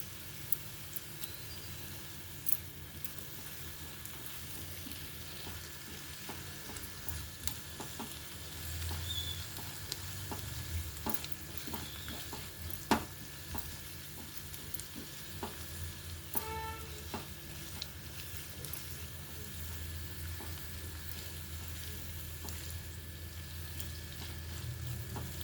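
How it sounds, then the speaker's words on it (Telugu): Ginger garlic paste sizzles and spatters softly in a pan, a quiet, continuous frying crackle with scattered small pops and occasional stirring scrapes, no talking. "ఇప్పుడు అల్లం వెల్లుల్లి పేస్ట్ పచ్చివాసన పోయే వరకు మగ్గించాలి."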